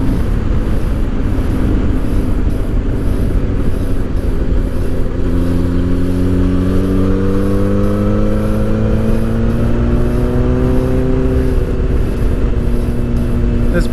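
A Honda F4i sport motorcycle fitted with a stage 3 Power Commander 3 accelerates hard, its engine whine rising steadily in pitch through the gears over constant loud wind and road noise, heard up close from the rider's position.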